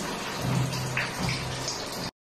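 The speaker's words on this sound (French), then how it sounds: "Voilà, il pleut dans la maison." Water leaking through the ceiling falls and patters steadily indoors, a dense wet splashing with a few distinct drips, close and fairly loud, no voices, cutting off abruptly.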